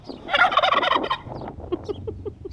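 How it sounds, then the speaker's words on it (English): A turkey lets out a loud, rapid gobbling burst, followed by softer clucking calls trailing off nearby. "it turned out to be turkeys"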